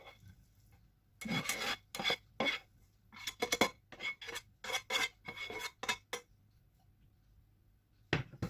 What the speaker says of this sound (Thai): เขี่ยพายให้เรามันทั่ว